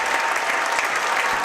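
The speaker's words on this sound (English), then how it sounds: "the Grand Rapids fans on their feet to applaud what he's done today and throughout" Grand Rapids fans at a 2012 Minnesota state high school boys basketball third-place game applaud on their feet, a dense sustained burst of clapping from a large crowd, loud and even throughout.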